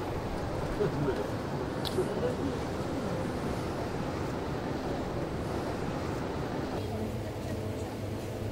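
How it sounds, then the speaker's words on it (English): Ocean waves wash steadily at a pier as a constant broad rush with wind noise, continuous and moderately loud throughout. "I like the sound of the waves."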